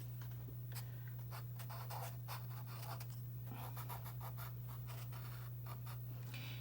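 Charcoal scratches and rubs across paper while sketching a still life, close dry strokes coming in uneven bursts over a constant low electrical hum, with no talking.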